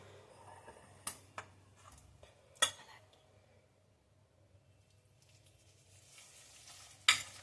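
Crushed Oreo biscuits being mixed with a splash of milk in a bowl, giving quiet wet stirring and scraping with a few sharp clinks of a spoon against the bowl, fairly close and low in level with no talk.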